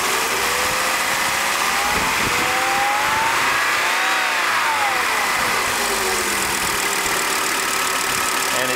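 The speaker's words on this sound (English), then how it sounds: "as we increase the engine speed, the voltage should also increase" A car engine in a workshop with its Bosch mass airflow sensor under test climbs from a steady idle into a smooth rev around the middle and then eases back down. The engine is close and loud, and no one speaks.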